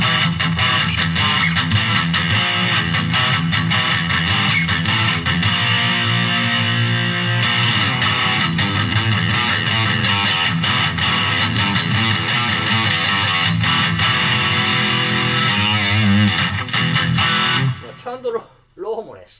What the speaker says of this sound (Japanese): まぁ、ちょっとディストーションにしてみましょうか。 深い歪みに耐えれるかちょっと。